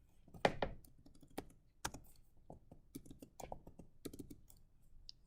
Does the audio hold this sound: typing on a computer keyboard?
yes